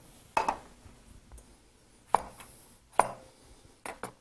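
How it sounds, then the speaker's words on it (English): A whole washed cucumber, skin on, is worked against a grater into a bowl in a home kitchen, giving a few short scraping bursts spaced out over several seconds, fairly close and moderately loud, with no talking. "I'm just going to shred it right into the bowl with the skin and all"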